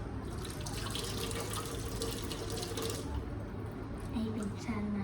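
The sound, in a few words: tap water running while washing dishes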